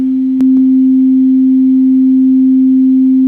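A modular synthesizer oscillator, triggered by a note, sounds a loud, pure, steady tone after a brief click, holding unchanged for about three seconds with no voices.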